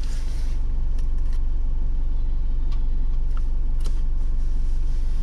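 A car climbs a winding mountain road, its engine giving a steady low rumble throughout with light rattles and clicks from inside the cabin.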